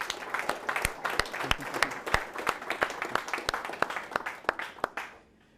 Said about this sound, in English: let's just give them one more round of applause, guys